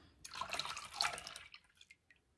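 A brief stream of milk pours and splashes into a bowl for about a second, then trickles and drips to quiet.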